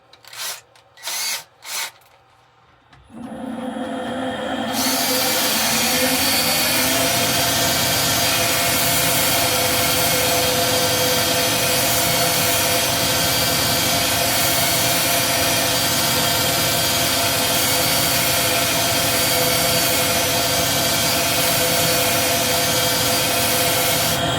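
A power sander with a 120-grit pad works a wooden bowl, starting after a few short bursts and then holding a loud, steady whirring drone with rough scratchy friction, close and continuous for over twenty seconds with no talking.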